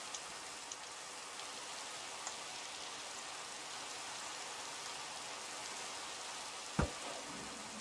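Steady Minecraft rain hisses evenly throughout, a broadband wash with no voices and one brief low thump near the end.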